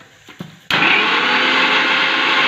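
A mixer grinder blends ginger and garlic with a little water into paste, starting abruptly after a couple of faint taps and then running loud and steady as a close, continuous high whir.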